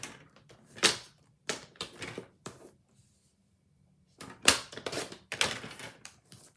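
A paper trimmer slices through cardstock in a series of close, sharp scraping passes and thunks, clustered in two bursts separated by a brief quiet pause.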